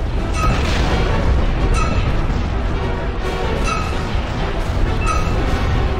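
Cannon fire rumbles through a Star Wars space battle video game, with repeated booming blasts and low heavy thuds over a dense, continuous background of combat noise.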